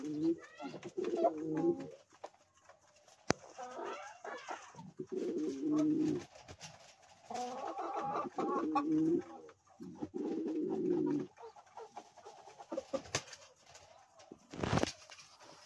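Domestic pigeons, including a local pigeon, satin and powder breeds, coo in repeated low rolling bursts at close range in a loft during summer care, with brief pauses and a sharp clatter near the end.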